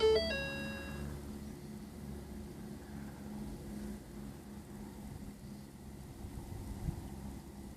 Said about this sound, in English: Now you can hear it start writing the tune.